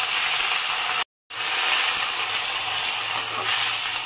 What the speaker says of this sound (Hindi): कढ़ाई में हम एक चम्मच तेल डाल दिए हैं, तेल गर्म हो गई है। अब इसमें हम इस सहजन को डाल देंगे